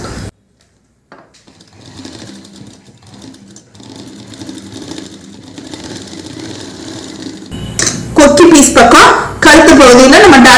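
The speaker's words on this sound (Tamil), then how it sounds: "இப்ப இங்க இருந்து அப்படியே குறைச்சுக்கிட்டே நம்ம இங்க வரைக்கும் தைக்க போறோம்" A sewing machine stitches the front of a blouse, with long steady motor runs that turn loud and close near the end, while a voice talks over it.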